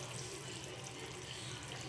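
A kitchen tap runs steadily into a sink while something is washed, a continuous close splashing wash of water with no talk.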